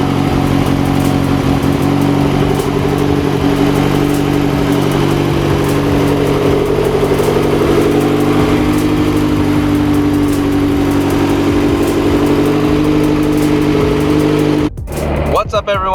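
A Toyota MR2 fitted with launch control and anti-lag idles loud and steady after a cold start, a constant close engine drone that drops off abruptly near the end.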